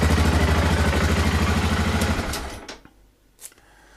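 Single-cylinder BMW F650GS motorcycle from 2002 idling close by with a rapid, even thumping beat for about two seconds, then cutting off, followed by quiet with a couple of faint knocks.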